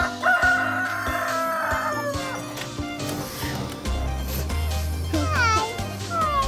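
A rooster crows loudly and close at an animal rescue, with clucking and a voice talking over the fowl sounds.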